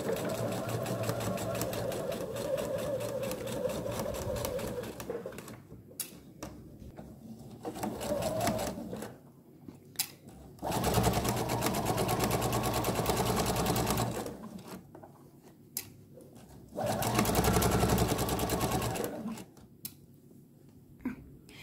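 An electric sewing machine stitches a cloth face mask in short steady bursts of rapid mechanical whirring, broken by brief quiet pauses and small clicks as the fabric is repositioned, close and clear without talk.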